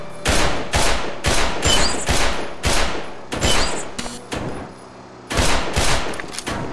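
A gun fires in Black Mesa Blue Shift: a rapid series of about a dozen loud, sharp shots with short gaps between bursts, each crack dying away quickly, heard alone without voices.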